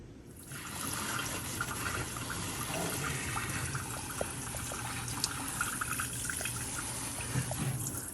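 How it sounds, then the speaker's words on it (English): Water poured from a can onto potted houseplants at home, a steady trickling and splashing stream lasting several seconds, close and continuous with small drips and taps. "This girl needs to be watered."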